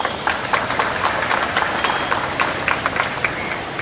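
Audience at a Chennai Airport event applauds Airport Authority of India officials, a dense, roaring wash of many hands clapping, steady and fairly loud throughout.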